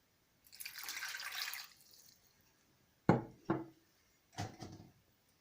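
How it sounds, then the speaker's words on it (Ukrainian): Water is poured into a saucepan over sliced onion, a short hissing splash at first, then a few sharp knocks and clinks of the pan, close and fairly quiet. "Заливаю водою."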